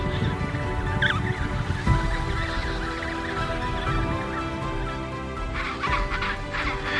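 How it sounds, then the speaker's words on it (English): A flock of emperor penguins calling on an icy plateau, overlapping honking and trumpeting cries that carry steadily, with a few louder calls standing out. "They are a flock of emperor penguins, the resilient symbol of the southernmost land."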